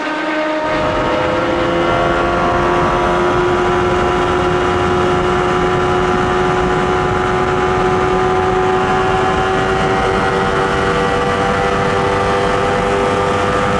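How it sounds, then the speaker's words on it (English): Mario Andretti's IndyCar runs flat out through turn 2 at the 1993 Indianapolis 500, a steady, droning engine whine that climbs slowly in pitch and carries on unbroken with no voices over it. "We can hear him going through turn 2, and he's wide open, trying to catch the other guys."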